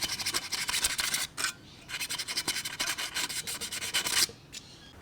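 Close, steady scrubbing of a rag or abrasive over the metal flywheel surface of a Victa two-stroke lawn mower, quick repeated rasping strokes with a couple of brief pauses, fairly quiet and without talk.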